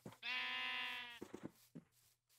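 A Minecraft sheep gives one long, clear bleat close by, followed by a few short clicking game sounds in an otherwise quiet scene.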